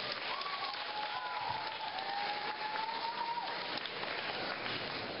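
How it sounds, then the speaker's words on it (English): Steady applause from an audience fills the room for a costumed performer as Tinkerbell, an even, continuous patter of clapping heard from some distance, with a faint voice or tone drifting underneath. "Please, another round of applause for Tinkerbell."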